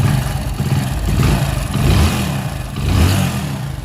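Hero 100cc motorcycle engine, freshly repaired, revved in several slow swells over a steady idle, loud and close, with no talking.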